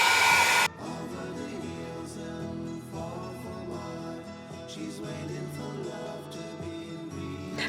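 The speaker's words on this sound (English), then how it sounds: "I'm just going to heat this a little bit to dry it" A handheld heat tool blows over purple stencil butter on a mixed media art piece, a steady close whirring hum that follows a short louder burst at the start.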